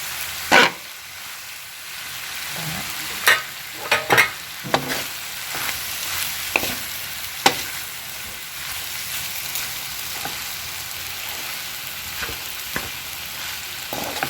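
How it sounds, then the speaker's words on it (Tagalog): Rice frying in a stainless pan, with a low steady sizzle broken by scattered spatula scrapes and clinks as it is stirred. "Ihulog ko na yung kanin, Pagamit ngayon ako ng stainless na Yan. Haluin yung maigi"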